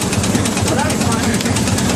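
A steam launch engine on the boat Laurie Ellen runs steadily with a rhythmic low chuffing and pulsing throb, loud and close, while a voice talks over it.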